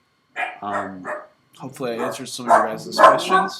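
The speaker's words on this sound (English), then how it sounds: "Sorry about the dog" A dog's short yapping barks sound close at the start, followed by someone talking alone.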